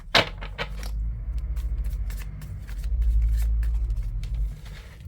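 Playing cards are shuffled and drawn by hand, a few sharp riffling snaps at the start followed by soft rustling and light flicks of cards, close up over a low steady background rumble.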